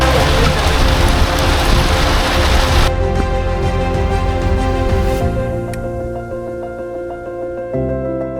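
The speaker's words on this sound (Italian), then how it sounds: "Giusto in tempo per la grandine." Hail falls hard during a mountain hike near the Feltre peaks, a dense, loud hiss of pelting ice for about three seconds before it drops away beneath sustained tonal sounds.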